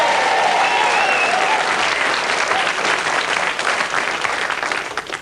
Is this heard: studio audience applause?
yes